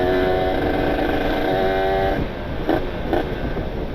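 A Yamaha RXZ two-stroke motorcycle is ridden on the road, its engine a loud, steady, buzzy drone with a whining tone that shifts and drops partway through.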